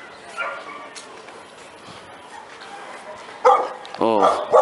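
Dog barks break out near the end, a quick cluster of sharp, fairly loud yaps over a murmur of background noise and talking.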